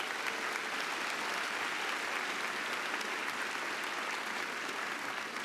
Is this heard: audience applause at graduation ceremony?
yes